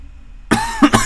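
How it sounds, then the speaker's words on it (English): Coughing during a Minecraft play session: after a short quiet lead-in, two or three close, loud, harsh coughs burst out in quick succession, with a throaty, throat-clearing edge. "can I ever stop coughing?"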